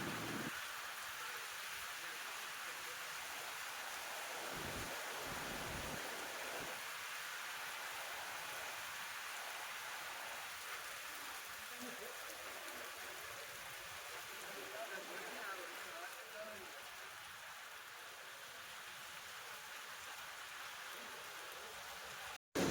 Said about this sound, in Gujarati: તો અત્યારે વરસાદ જોરદાર ચાલુ થઈ ગયો છે.